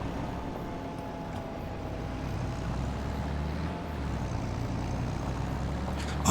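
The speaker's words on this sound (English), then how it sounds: "I like the engine sound in this seater here." A video game vehicle's engine drones steadily at a constant low pitch, loud and close, with no speech over it.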